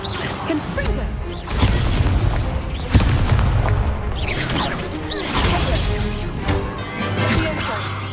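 Confringo explosive spell blasts during a Hogwarts Legacy duel: repeated booming impacts, crashes and whooshes with shattering debris, mixed with game voices and battle noise over several seconds.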